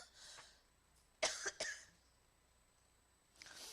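A person coughs from dust indoors: a soft throat sound, then two sharp close coughs in quick succession, and a final muffled cough after a short pause.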